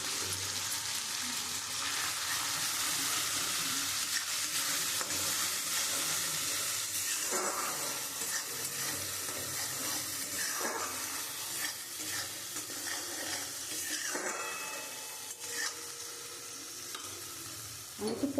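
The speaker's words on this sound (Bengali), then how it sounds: "আমি মশলাটা দিয়ে আমি ভালো করে কষিয়ে নিয়েছি, তেলও ছেড়ে দিয়েছে।" Spices, turmeric, chili powder and fish paste sautéing in hot oil in a pan for a Bengali bhola fish curry, with a continuous close sizzle and intermittent scraping of stirring throughout.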